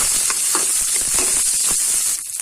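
Chopped onion frying with cumin seeds in hot oil for a mango curry, a loud steady sizzle with a few soft stirring scrapes, close up and with no voices.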